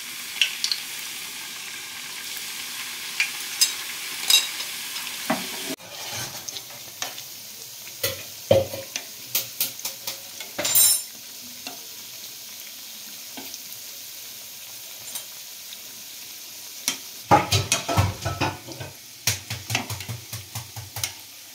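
Gujiya pastries fry in hot oil with a steady low sizzle, while frequent scrapes and clinks of a utensil stir and turn them. Several sharper bursts stand out along the way, all close and without talk.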